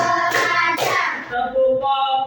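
A primary school class claps along to a counted clap chant, with a couple of sharp bursts of hand claps followed by quieter, tonal sound as the group continues.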